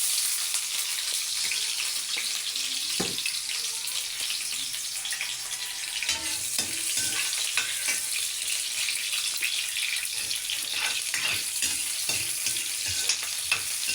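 Onions frying in cooking oil for chicken nilaga: a dense, steady hiss of hot oil that runs the whole time, with scattered small clicks and pops of stirring up close and no speech.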